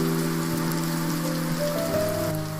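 Rain falls steadily as a constant, dense hiss through a drama scene of a king practicing swordsmanship with trained soldiers, with sustained music tones beneath it.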